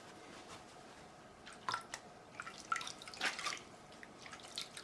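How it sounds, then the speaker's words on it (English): A cloth is dipped into a bowl of soapy water during guitar refret work, giving scattered, irregular drips and small wet splashes, quiet and close, with no talking. "I've got a bowl full of soapy water just behind the camera there."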